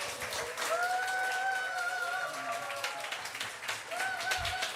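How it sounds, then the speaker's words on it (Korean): Clapping rises from a Sunday church congregation as an elder, Kim Kyung-min, is welcomed up to preach, scattered hand claps mixed with sustained musical tones that swell and fade. "큰 박수로 모시겠습니다"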